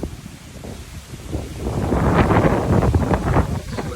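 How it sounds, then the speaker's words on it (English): Strong hurricane wind buffets a microphone at a bayfront park and marina during Hurricane Ian, a continuous roaring rumble that swells louder and gustier partway through, with no voices. "I don't know if the wind's gonna be a factor in the sound"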